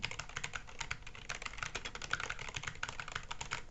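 Rapid typing on a Rexus mechanical keyboard fitted with Gateron red switches: a dense, steady run of light clicks and clacks at close range, with no speech over it.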